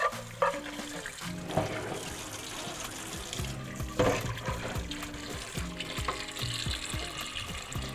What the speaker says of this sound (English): I'm going to wash my goat meat again before I put it on fire again for the final cooking.